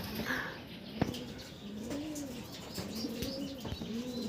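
Pet pigeons coo softly in repeated low, rolling phrases, with a few faint chirps and a wing flap mixed in, close by in a quiet loft.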